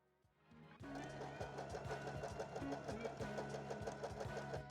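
A sewing machine runs a fast, steady stitching rhythm across the seam of a thrifted dress, its motor whir and needle clatter close and continuous after a short quiet start.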